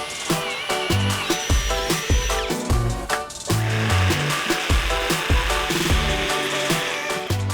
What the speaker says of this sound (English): We're going to cut those out with the jigsaw